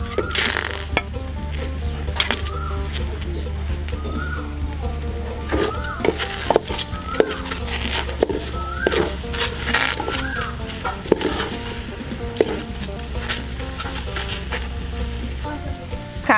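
Frog meat sizzles loudly in a pot of fried curry paste while a utensil scrapes and knocks against the metal in irregular strokes, over a constant low hum.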